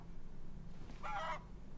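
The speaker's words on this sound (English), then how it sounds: "Oh, you silly chicken." Chicken in Red Dead Redemption 2 giving a short, bright honk-like cluck lasting a fraction of a second, over a steady low game ambience.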